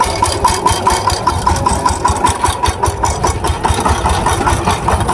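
A tractor power tiller engine runs steadily in a field, a continuous close, loud mechanical drone with a fast, knocking pulse throughout.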